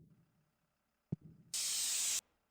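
A spray paint can in the game Money Simulator gives one short, loud burst of hissing spray that lasts under a second, after a faint click and a low hum.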